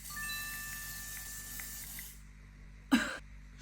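A single short burst from an SPF sunscreen spray misted over make-up, a close, sharp hiss lasting about a quarter second after a stretch of faint background tone, with no voices.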